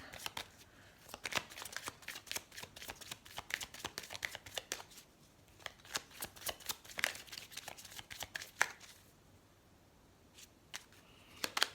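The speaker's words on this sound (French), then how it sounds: "j'ai battu les cartes pourtant" A deck of tarot cards shuffled by hand, a long run of crisp riffling bursts and flicks close by, pausing briefly before starting again.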